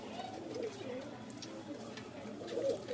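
Breeder pigeons of the Punjabi Malwai kind coo softly in a breeding setup, low rolling calls repeating in the background beneath faint speech.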